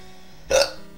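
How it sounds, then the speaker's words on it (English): A single hiccup, sharp and brief, pops out once at close range over a faint steady hum, with no talk around it. "Oh, I have the hiccups."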